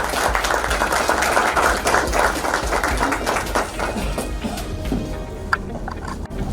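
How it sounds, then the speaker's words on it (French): A large audience applauds at the official launch ceremony of the AIPC-RDC in a Hilton hotel in the DRC, a dense, steady wash of clapping that continues throughout and fades slightly toward the end. "Sous vos applaudissements."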